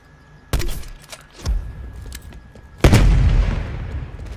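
Spawn tube fired in Black Ops Cold War: a sharp launch boom, a smaller thud, then a loud deep landing burst that rolls off with a long rumbling tail, no voices.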